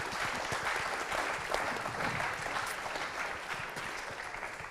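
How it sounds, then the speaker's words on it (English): Audience applause at a film festival panel discussion on American independent cinema in Munich, a steady, moderately loud wash of clapping that holds for several seconds. "Big applause."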